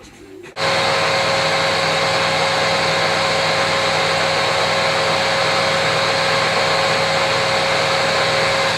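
A power tool spins up abruptly and runs at a loud, steady whine while polishing the freshly cut crown of a custom rifle barrel in a gunsmith's workshop, continuous and close with no pauses.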